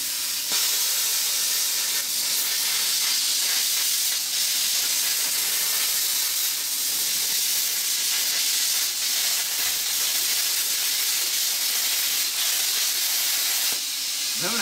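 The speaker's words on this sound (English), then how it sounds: "I'm having a hard time cutting through this rust, guys." A plasma cutter cutting through rusty steel gives a loud, continuous broadband hiss that barely changes over about fifteen seconds, with slight flutters and no talk.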